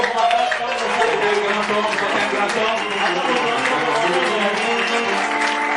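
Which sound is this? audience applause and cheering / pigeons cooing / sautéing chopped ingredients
audience applause and cheering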